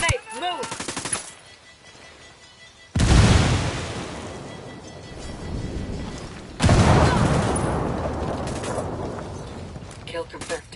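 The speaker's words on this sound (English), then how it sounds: "Grenade, move!" In a shooter game, two heavy booming grenade blasts land a few seconds apart with rolling rumble after each, framed by bursts of gunfire and a voice calling out.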